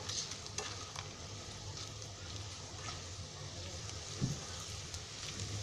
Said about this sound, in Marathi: आता कांदा भाजला आहे, ह्याच्यामध्ये आहे ना हा गाजर टाकते मी पहिला